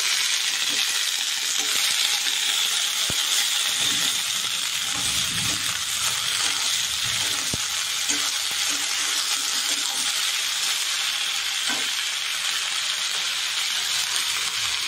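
Fish sizzles steadily in hot oil in a pan, a constant close frying hiss with occasional soft scrapes and clicks as it is stirred.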